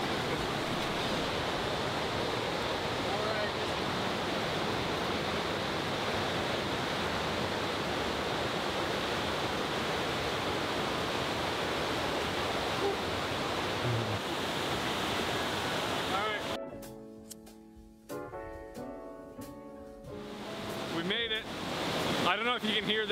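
Loud, steady rushing water from a large flow fills the scene with dense roaring noise, then briefly breaks into clattering handling sounds near the end.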